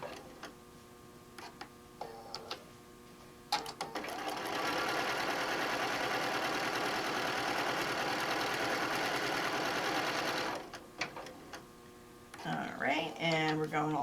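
A sewing machine runs a seam in one long, steady whirring stretch of about six seconds, close by, with handling clicks and a voice speaking before and after.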